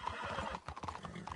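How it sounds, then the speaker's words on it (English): Horse in the Red Dead video game whinnies over a busy bed of clopping hooves and tack noise, loud and close, with a sharper snort near the end. "Get a hold of that horse, will you?"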